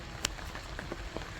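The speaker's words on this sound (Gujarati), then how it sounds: "શરૂ છે ટપ ટપ ટપ ટપ ટપ ટપ વરસાદ" Rain in a village, pattering on roofs and the ground in a steady, quiet hiss with a few sharper drops standing out near the start.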